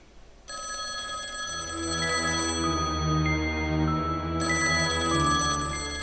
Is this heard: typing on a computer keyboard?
no